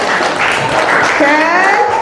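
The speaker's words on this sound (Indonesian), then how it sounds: "Tepuk tangan buat kita semuanya." A school audience applauds during a counseling session, a brief burst of steady clapping with a voice speaking over it near the end.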